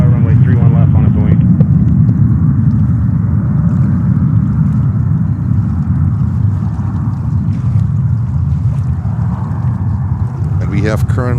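A steady, broad jet roar from an airliner taking off on runway 31 left at New York's JFK Airport, fairly loud and continuous, with a voice talking over it at the start and end.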